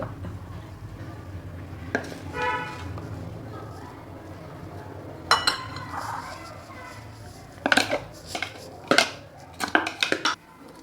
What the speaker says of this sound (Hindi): अब ये मैं मिक्स करूँगी